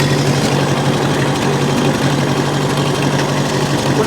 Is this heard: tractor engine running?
yes